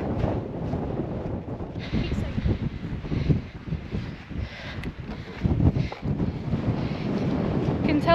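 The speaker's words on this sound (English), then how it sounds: "Tell we're near the top because it's so bloody windy." Strong gusting wind buffets the microphone near a fell summit in the Lake District, a loud continuous roar that swells and dips throughout.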